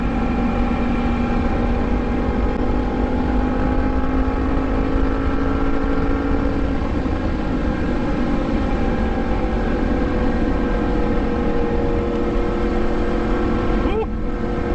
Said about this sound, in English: nice exhaust growling